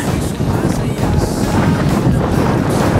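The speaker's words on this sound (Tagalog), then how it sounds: "Sobrang lakas ng hangin, delikado" Strong typhoon wind buffets the microphone in a constant loud roar and rumble at a hilltop viewpoint, gusting unevenly throughout with no clear voices.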